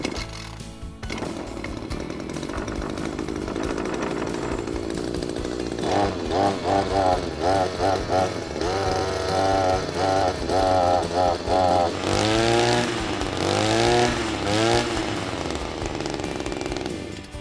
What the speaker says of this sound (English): give it some revs just to get the engine warm initially